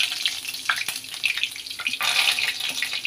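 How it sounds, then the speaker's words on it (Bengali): Curry leaves crackle and sizzle sharply as they hit hot oil, wet leaves spitting in bursts with several sudden loud pops over a continuous hiss. "এবার কারি পাতা ভাজছি"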